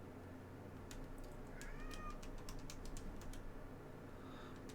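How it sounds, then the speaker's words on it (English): A domestic cat meows briefly, a rising-falling call in the middle, set over steady room hum and faint keyboard typing. "my cat is once again complaining about not being loved every second of the day"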